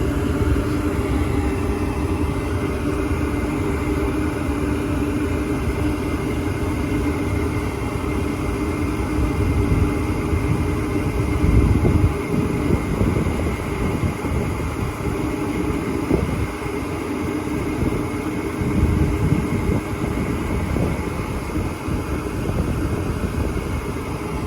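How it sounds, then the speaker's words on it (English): A furnace blower motor runs steadily after ignition in a unit with an overheated inducer draft motor, giving a continuous, even whir and hum that holds at a constant loud level with a few soft clunks. "Okay, we got ignition. And we should be getting blower motor."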